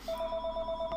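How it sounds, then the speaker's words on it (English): A mobile phone ringtone plays close by as a steady electronic tone with harmonics, repeating without pause and with no talking over it. "And my phone is frickin' ringing."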